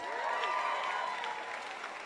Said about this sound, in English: Can I hear a round of applause for Tom's Shoes?